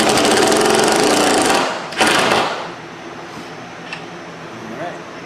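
A power drill drives a 1.25-inch screw into wood on an arcade cabinet, a loud close whirring grind that stops, bursts again briefly, then fades into quiet room noise.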